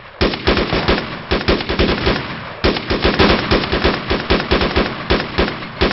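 Rapid rifle fire during a military exercise, loud and close, with dense bursts of sharp shots in quick succession, one short pause, then more volleys crackling on to the end.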